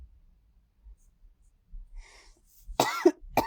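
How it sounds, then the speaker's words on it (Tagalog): A woman coughs during a live phone-chat stream, a short burst of two or three harsh, close coughs following quiet breathing and faint murmurs. "Yung ubo ko, nag-i-intermission."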